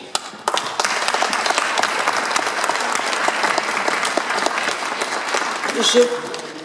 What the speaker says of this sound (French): Nous pouvons applaudir tous ces médaillés.